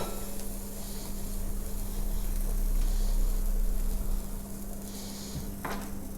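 Pide toast sizzles steadily in a greased toaster press, a soft continuous frying hiss with a low electrical hum underneath and a brief click near the end.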